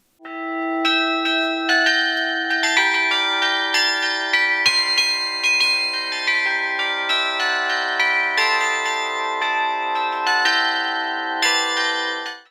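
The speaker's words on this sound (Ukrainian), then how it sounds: "Мелодії дзвонів на карельйоні відтворювали не лише студенти та викладачі, а й професійні музиканти." Carillon bells ring out melodies in a monastery bell tower during a carillon and bell art festival, with bright overlapping tones and a steady stream of struck notes, loud and sustained for the whole stretch with no talking.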